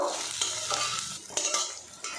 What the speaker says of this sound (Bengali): বড়াগুলো উল্টে পাল্টে একটু লাল লাল করে ভেজে নেব।